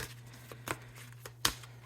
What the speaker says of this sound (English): Do one more good shuffle.